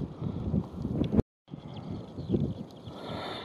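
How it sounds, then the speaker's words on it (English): Strong gale-force wind blowing up an open farm field slope, buffeting the microphone with steady low rumbling gusts, briefly cutting out to silence before the roar resumes at the same loud level. "It's just blowing a gale up this slope."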